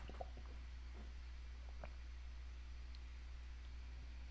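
A person sips water close to the mic during a coughing fit, with soft wet slurps and drips over a steady low hum.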